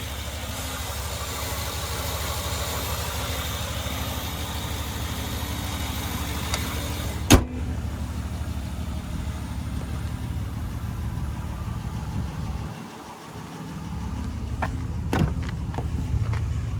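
The 5.7-liter V8 with eTorque in a 2022 Wagoneer Series II idles steadily with a low, even rumble, heard up close, with one sharp click partway through and a few light knocks near the end.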